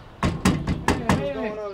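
Sharp knocks strike a door five times in quick succession, loud and close, followed by a short voice.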